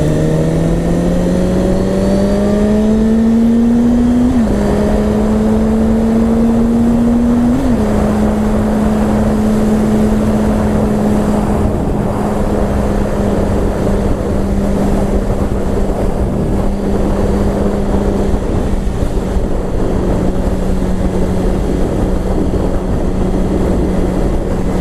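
2017 Suzuki GSX-R1000 sports motorcycle with a Yoshimura exhaust pulling hard through several gears, loud and close, each rising engine note cut by a shift, over constant wind rush.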